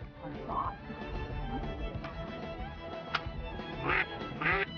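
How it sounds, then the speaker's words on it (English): Ducks quack in several short bursts during a Cajun duck hunt in a marsh, with louder calls toward the end over steady outdoor background noise. "What a neat way to call in ducks without a duck caller."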